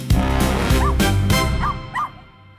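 A puppy sound effect for a radio show gives a few quick, high yips and whimpery barks, loud and close, before it trails off into a last short yelp.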